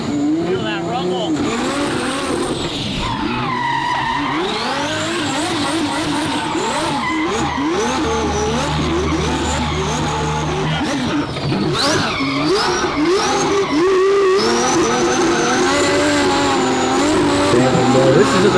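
A twin-turbo Ferrari V12 tuned by DDE spins donuts, its engine revving hard as the tires skid and squeal continuously and loudly up close, while voices talk over the noise throughout.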